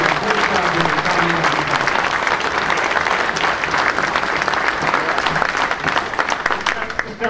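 Crowd at a Recall Doyle kickoff rally in Milwaukee breaking into loud, sustained applause, dense clapping filling the room for several seconds.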